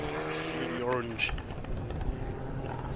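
Orange Mitsubishi four-wheel-drive rally car on an uphill hillclimb course, its engine revving and rising in pitch as it climbs, loud and fairly close, with a commentator talking over it.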